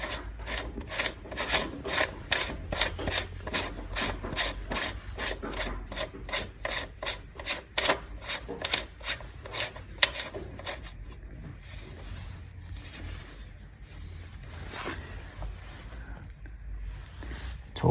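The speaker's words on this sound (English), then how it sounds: "Install the nut by hand" An axle nut is spun by hand onto the rear wheel of a 2015 Kawasaki ZX-10R, making a steady run of quick, close rasping clicks that later slow into softer, scattered turns.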